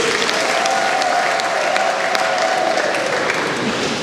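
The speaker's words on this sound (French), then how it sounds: "On acclame pour monsieur l'abbé." A church audience at a parish anniversary celebration applauds the parish priest, dense sustained clapping from a crowd, loud and even throughout, with a faint voice heard faintly underneath.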